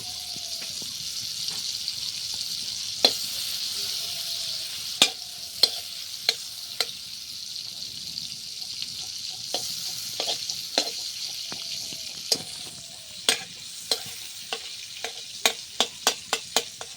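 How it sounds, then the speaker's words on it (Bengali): Butter melts and sizzles in a hot kadai on a stove with a constant bright hiss. Sharp clicks and taps join in, growing more frequent toward the end. "কড়াই গরম হয়ে গেছে, এবার আমি বাটার দিয়ে দেবো"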